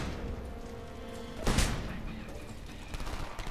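A single heavy gunshot booms out in the Homefront war shooter game, a loud broadband blast standing alone over a steady background rumble of battle ambience.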